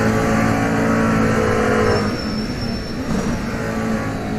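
A McLaren GT3 race car at Donington Park during a GT3 championship round, its engine holding a loud, steady drone through a turn with a thin high whine and a slight dip midway.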